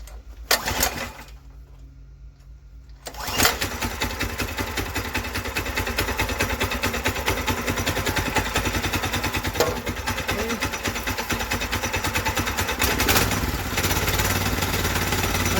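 A Predator 212 small engine fitted to a Volkswagen Baja Bug is pulled over and catches after a couple of seconds, then settles into a steady, loud, buzzing idle that runs on unbroken.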